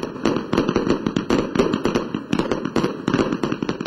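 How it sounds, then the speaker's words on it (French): Rapid crackling bangs of New Year firecrackers and fireworks burst continuously, loud and dense, echoing like a barrage. "Entendez là l'utilisation des pétards et autres feux d'artifice pour marquer le passage d'une année."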